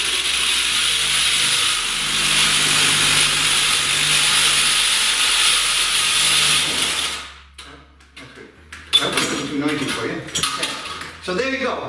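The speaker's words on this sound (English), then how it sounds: "you're going to have to cut it with a sawzall" Reciprocating saw cutting out a 4-inch hole during electrical work, a loud steady buzzing whine for about seven seconds that cuts off abruptly, followed by clattering handling noises and someone talking.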